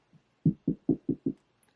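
Five quick knocks on a wooden surface in an even rhythm, close and distinct, with a faint softer tap just before them.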